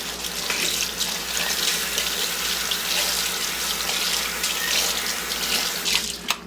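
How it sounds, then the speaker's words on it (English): Air plants dunked and swished in a bucket of water mixed with Dawn dish soap, a steady loud sloshing and splashing that runs continuously, close up with no talking. "all I'm gonna do is dunk them, swish them around, and rinse off the soap"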